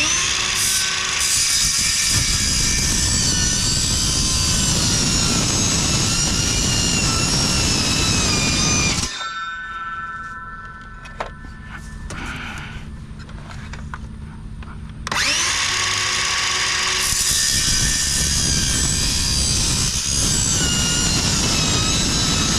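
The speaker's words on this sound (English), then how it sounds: "a skill saw will run right through aluminum" A circular saw cuts through aluminum, a loud high-pitched whining screech that runs steadily for about nine seconds, drops to a quieter idling hum while the cut pauses, then returns at full volume for the rest.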